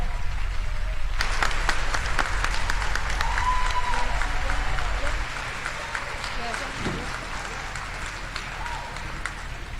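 Applause for a concert choir at a school graduation, a broad wash of crowd clapping that holds steady, then drops a little in level for the rest, with faint voices underneath.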